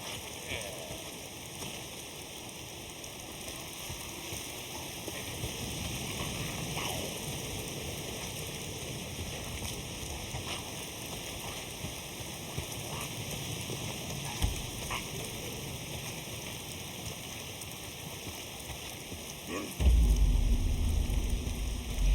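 Steady rain falls across the open world of the video game Days Gone, a continuous soft hiss of drops with a sudden louder, heavier burst near the end.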